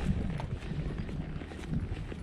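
A horse walking on an outdoor trail in a snowy mountain backyard setting, its hooves giving a soft, irregular clip-clop close by over steady ambient noise.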